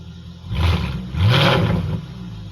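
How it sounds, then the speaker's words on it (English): A Mercedes SLK55 AMG (R172) engine revs sharply twice with a loud, open exhaust roar, exhaust flap fully open, dropping back to a rumbling idle between and after the bursts. "Right, give it some revs, shall we?"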